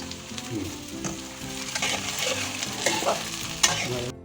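Garlic and ginger paste frying in hot oil, a dense close sizzle with spatula scrapes and stirring clatter throughout.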